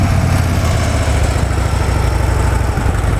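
A Harley-Davidson Ultra Limited motorcycle with factory exhaust idles close by with a deep, steady, throbbing rumble that holds constant and loud throughout, no talking.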